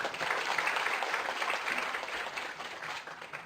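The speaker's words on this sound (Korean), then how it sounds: "그 축사 말씀 해주신 세 분께 다시 한번 큰 박수 부탁드립니다." At a conference opening ceremony, an audience applauds three speakers after their congratulatory addresses, with a soft, dense wash of clapping that holds steady and then thins slightly at the close.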